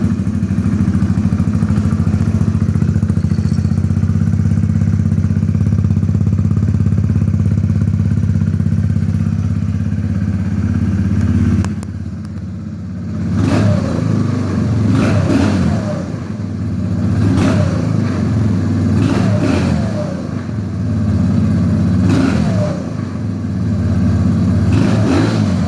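A 2017 Kawasaki Z125 Pro with a low-mount exhaust idles steadily and loudly, then the throttle is blipped in a series of sharp revs that rise and fall in quick bursts.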